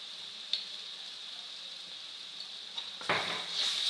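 Chili and coriander powder frying in oil for a chicken curry give a steady close sizzle, with a few stirring clinks and a louder hiss burst near the end.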